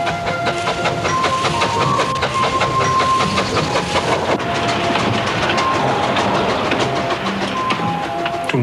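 An old coal-fired steam tram runs on rails with a continuous rumble and rhythmic clatter, loud and steady throughout, with faint tonal squeals above the noise.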